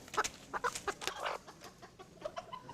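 A hen clucks in short, irregular bursts, fairly faint and close, with soft rustling between calls and no talking.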